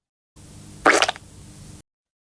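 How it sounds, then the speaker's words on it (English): Squelching fart sound effect: a single short, wet, bubbly burst near the middle, over a faint room hiss, with no talking. "Squelching fart."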